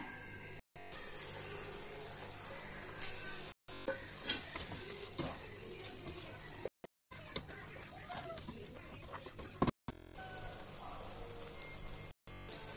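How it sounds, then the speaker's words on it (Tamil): Prawns sizzle and fry in a pan for biryani while being stirred, giving a continuous crackling hiss with scraping stir sounds throughout and brief cuts in the sound. "இப்போ நான் இறாலை ஆட் பண்றேன்."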